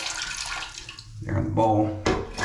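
Water squeezed out of a sponge into a toilet bowl while draining the tank to fix a fill valve: short trickling and splashing bursts, close and fairly loud, with brief pauses between squeezes.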